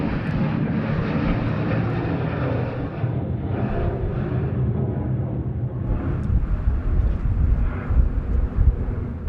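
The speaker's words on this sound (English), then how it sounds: "737 now rolling runway 34 right." A Virgin Australia Boeing 737 takes off from runway 34 right at Sydney Airport, its engines a steady, loud, broad roar that holds across the whole stretch with a slight swell near the end and some wind buffeting.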